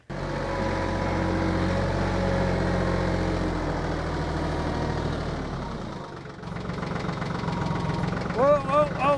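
Tractor engine running steadily and loud at close range while T-posts are pounded into a fence line, the rumble easing late on as a voice talks over it.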